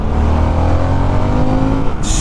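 A Harley Davidson Sportster S motorcycle accelerating on the road, its engine a loud, steady, close droning roar with rising harmonic tones and a burst of wind rush near the end.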